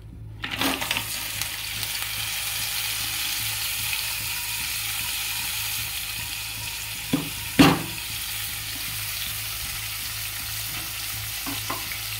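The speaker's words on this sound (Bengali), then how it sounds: "কাঁচা তেলেই কিন্তু মাছটা দেবো" Fish goes into mustard oil that is not yet hot and sizzles steadily up close, with a few sharp clinks and scrapes from stirring.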